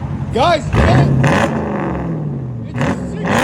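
A Dodge Challenger Scat Pack with a 6.4-liter V8 and drone exhaust revs up close by, a deep throaty rumble that rises and falls, with people talking over and between the revs.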